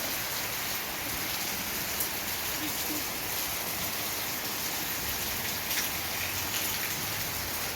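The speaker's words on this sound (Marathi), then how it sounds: "लय जोरात येत होता पाऊस बघू शकता आता जरा कमी झाला" Heavy rain patters down hard and evenly on a surface, a dense continuous hiss with no break, as it begins to ease off.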